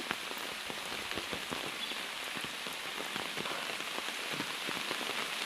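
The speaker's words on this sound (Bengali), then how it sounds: "আজকে প্রায় তিন দিন ধরে বৃষ্টি হচ্ছে বৃষ্টি আর কমতেছে না" Heavy rain on the third straight day of a downpour, a dense steady hiss of drops hitting surfaces with scattered sharper patters, continuous and fairly close, with no voices.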